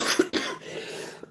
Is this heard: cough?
yes